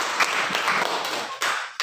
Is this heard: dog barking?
no